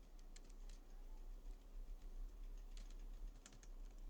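Rapid typing on a computer keyboard during a CSS coding lesson, with soft irregular clicks and taps in bursts over a steady low room hum, no voices.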